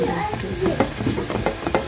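Pieces of snack dough fry in a pan of hot oil with a steady sizzle and scattered light crackles and pops, while someone speaks briefly over it.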